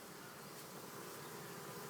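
Honeybees buzz steadily at an opened hive, a dense, even swarm hum filling the short stretch, close and without any talk.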